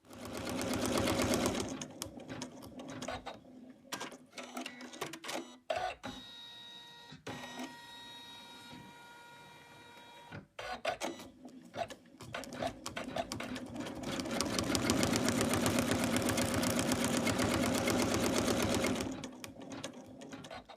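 An embroidery machine stitches the placement line for a belt on an in-the-hoop Santa design, whirring with fast rapid-fire needle chatter that stops for a few seconds partway through, then resumes louder and steadier.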